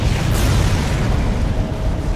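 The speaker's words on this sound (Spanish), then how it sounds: "¿Y eso era la explosión?" A detonator blast in the Dead Space video game gives a dense, loud, low rumbling roar that holds steady for its full length, without speech.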